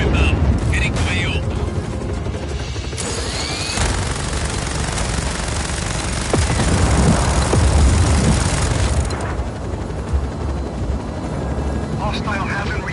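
Helicopter in a combat video game, a steady broad rotor and engine roar lasting throughout, mixed with bursts of gunfire and booms, with radio-style voices talking over it.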